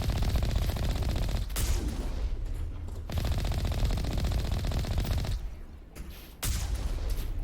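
Sniper and squad gunfire in Mass Effect 1 Legendary Edition on Insanity difficulty, a loud, dense stream of rapid shots with two short pauses before the firing resumes.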